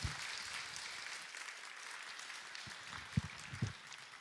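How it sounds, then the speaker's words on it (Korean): A church congregation at a Yangjae new-believers worship service applauds to welcome a pastor, a fairly quiet, steady patter of clapping across the whole stretch with a few louder thumps near the end. "우리 큰 박수로 환영하도록 하겠습니다"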